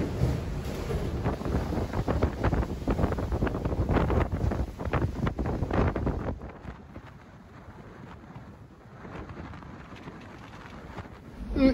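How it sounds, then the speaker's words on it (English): A Force 9 gale with 40-knot gusts buffets a sailing yacht at sea, roaring wind hitting the microphone hard for several seconds before easing to a lower, steady rush. "Top wind speed 40 knots. That's Force 9 by my book."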